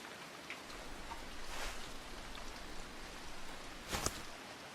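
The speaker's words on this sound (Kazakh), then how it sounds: "жаңбыр мен жел соғып тұр" Rain and wind in an animated scene, a soft, steady hiss of falling rain with faint gusts swelling, a couple of brief splashy drips cutting through near the end, quiet and without voices.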